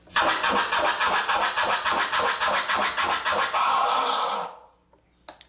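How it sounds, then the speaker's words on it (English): Turntable scratching, a record rapidly pushed back and forth under the needle, producing a steady run of close, loud rhythmic scratch strokes for about four seconds before cutting off, followed by a brief faint click. "by moving the record back and forth, you're gonna get a sound, and that sound is called a scratch"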